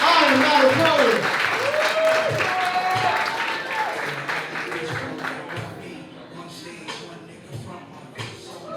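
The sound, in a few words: audience applause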